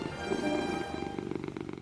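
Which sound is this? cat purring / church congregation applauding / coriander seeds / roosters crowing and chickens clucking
cat purring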